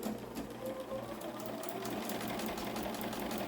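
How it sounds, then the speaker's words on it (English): A Bernina sewing machine stitching fabric with a short stitch length, giving a steady, continuous mechanical whir and rapid needle chatter, fairly quiet and alone without talk. "I'm just going to then sew this together."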